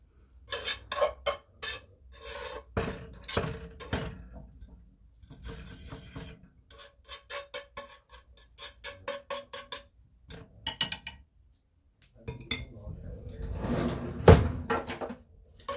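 Last bits of food scraped out of a pan, a run of rasping, clattering scrapes and knocks in uneven bursts with short pauses, close and moderately loud.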